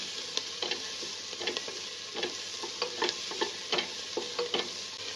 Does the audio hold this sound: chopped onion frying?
yes